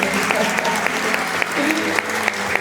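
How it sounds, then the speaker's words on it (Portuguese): A church congregation claps together for a newly formed family at a religious ceremony, a steady wash of applause with scattered sharper claps and a voice faintly speaking beneath it. "Vamos aplaudir Jesus por essa nova família."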